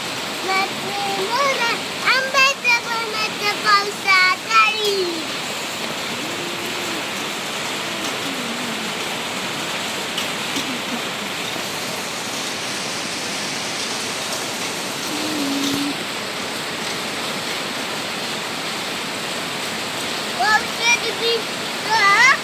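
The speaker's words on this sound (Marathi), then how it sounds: "परत पावसाला सुरुवात झाली पावसाने" Continuous heavy rain pouring down in Pune, a dense steady hiss of drops on surfaces, with occasional voices and brief sounds above it.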